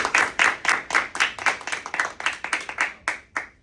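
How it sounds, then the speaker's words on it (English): Middle school audience at a Young Men of Excellence award ceremony claps for the students, a brisk, close burst of many hands lasting a few seconds before tapering off. "So can everyone who's in attendance just give these guys a round of applause?"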